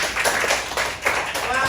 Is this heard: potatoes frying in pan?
no